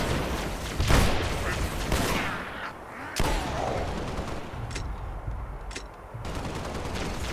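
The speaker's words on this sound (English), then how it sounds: "Okay, so I'm gonna use a shotgun here." Shotgun blasts from the video game Halo: Spartan Assault, loud and rapid, overlapping with dense game action, explosions and continuous battle noise throughout.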